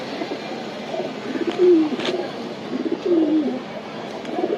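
A racing pigeon coos in two or three low, rolling phrases over a steady background hum, moderately loud and close, without talk.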